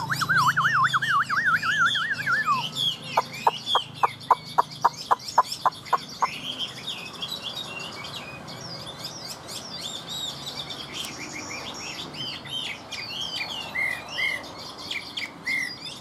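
A caged hwamei songbird sings loudly and close by: a rapid warbling trill, then a run of about ten sharp, evenly spaced whistled notes, then varied chirps and phrases that continue throughout.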